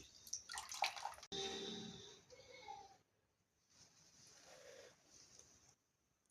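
Water is poured and splashed over a small Krishna (Kanha) idol during a morning puja bath, coming in close bursts of trickling and splashing with short pauses between them and faint voices in the background.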